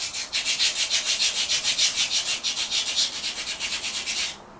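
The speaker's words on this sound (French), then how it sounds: "un petit coup de papier sur les plaquettes. Ça permet de les déglacer." Brake pads are rubbed with sandpaper to deglaze them, a loud, close, rhythmic scraping of quick back-and-forth strokes that stops abruptly at the end.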